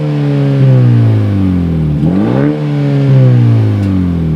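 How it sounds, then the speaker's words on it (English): A Ford Maverick Lobo's 2-liter EcoBoost revs through a Thermal R&D 3-inch exhaust, loud and close, its pitch climbing, dipping sharply near the middle, then rising again in smooth swells. "This musical EcoBoost orchestra that is coming from this 2-liter EcoBoost via Thermal R&D 3-inch exhaust."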